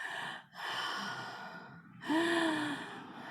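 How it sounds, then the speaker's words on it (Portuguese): A person breathes heavily, with loud, deep breaths drawn in and pushed out in a panting rhythm, close to the ear. A faint tonal squeak is heard near the end. "Ele está com a respiração ofegante"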